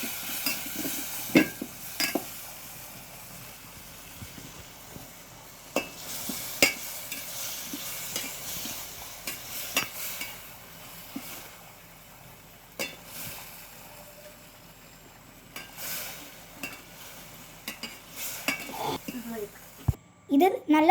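Tomato chutney stirred in a frying pan, with a steady sizzle under repeated scraping and clinking of a spoon against the pan, and a voice talking over it.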